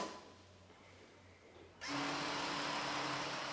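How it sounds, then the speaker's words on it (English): An Electrolux Pure i9 robotic vacuum cleaner starts up indoors, its motor and brushes switching on abruptly into a steady, close whirring hum after a quiet moment. "I just got the new Electrolux robotic vacuum cleaner today"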